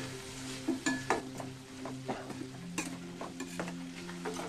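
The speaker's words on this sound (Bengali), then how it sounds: "হালকা একটু আরো 5-10 সেকেন্ড একটু ভেজে নেব।" Salted chutney ingredients sizzling in a pan as a utensil stirs and scrapes in quick, irregular strokes, with faint metallic ringing from the pan and no voices.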